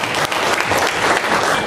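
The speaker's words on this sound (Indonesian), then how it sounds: "tepuk tangan buat beliau." Audience applause at a gathering, a short, loud, dense burst of many hands clapping close by.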